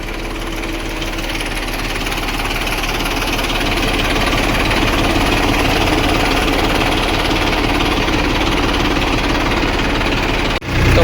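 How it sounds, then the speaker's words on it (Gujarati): A loud tractor-driven pump engine runs steadily while filling a tank, with a rough, knocking chug that continues throughout, then cuts out briefly near the end. "ટ્રેક્ટરમાં પંપથી ટાંકી ભરવાની છે"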